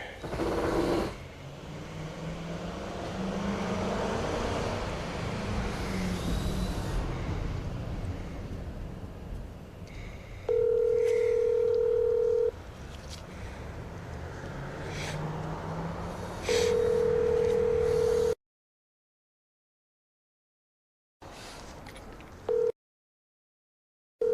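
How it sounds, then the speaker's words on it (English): Steady electronic telephone tones sound in two long, even beeps while a call is placed during a butcher-block countertop install in a tiny house, following a stretch of low room noise and then near silence. "I need to get Mrs. Sirius on the phone here"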